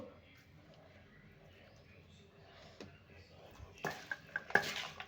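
An avla pod pickle with lemon is stirred in a bowl: quiet scraping, then a few sharp clinks and taps of a spoon against the dish near the end, with a voice talking at times.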